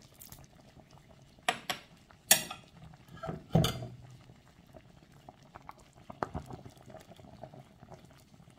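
Soup with shrimp powder bubbling in a pot on the stove, with a few loud clanks of pot and utensil over a steady low simmering hiss.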